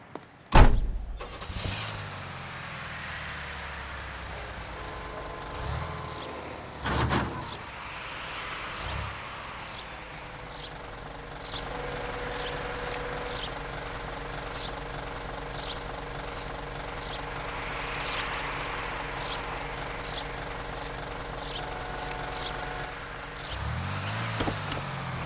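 A car in the L.A. Noire video game starts with a sharp burst, then its engine runs at a steady hum with brief revving surges, one near the start and another near the end.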